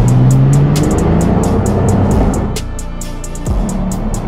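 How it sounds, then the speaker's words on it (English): Cars crawl through a Tokyo traffic jam, a loud engine hum with passing vehicles and a regular ticking pulse repeating across the short stretch. "Welcome to the traffic jam of Tokyo"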